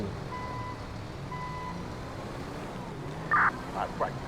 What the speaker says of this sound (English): it sounds like he's pulling in the tow truck here